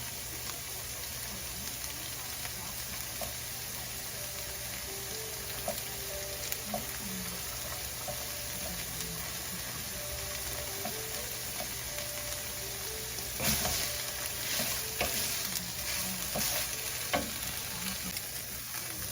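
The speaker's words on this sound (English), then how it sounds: "Now I'm going to squeeze in a little bit of garlic. And I'm just going to let that cook a little bit before I start mixing it in." Garlic cooks in a hot pan with a steady, continuous sizzle that holds at an even level, with faint clicks and a brief louder patch of spattering near the end.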